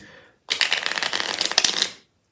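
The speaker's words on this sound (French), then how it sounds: "Et vous mélangez les cartes." A deck of playing cards is shuffled in one quick riffle lasting about a second and a half, close and crisp, after a brief faint rustle.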